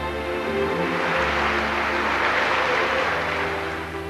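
Theatre audience applause heard in a 1994 Spanish TV advert for stage comedies, a broad, steady clapping wash at moderate loudness, mixed with a low sustained musical tone underneath.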